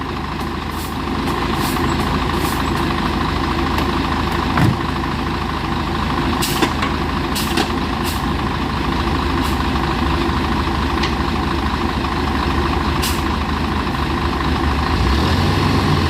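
A concrete mixer truck engine rumbles steadily at idle on a hill after failing to climb, loud and close, with occasional short hissing bursts and clanks over the continuous low drone.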